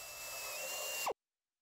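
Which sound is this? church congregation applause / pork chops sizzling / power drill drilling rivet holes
power drill drilling rivet holes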